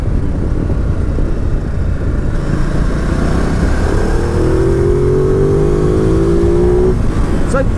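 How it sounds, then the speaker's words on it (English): A 2019 Ducati Multistrada 950 S motorcycle engine roars continuously at full throttle, its pitch climbing steadily as it pulls hard, with constant road and wind rumble. "So it's full throttle then, I wasn't revving it hard."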